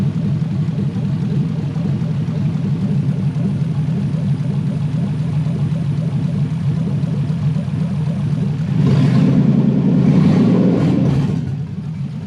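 Toyota 1UZ V8 engine fitted in a Lamborghini-style kit car runs at a steady idle, close and loud, then briefly swells louder near the end before settling back.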